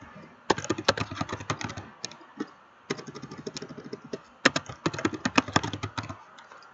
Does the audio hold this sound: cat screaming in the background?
no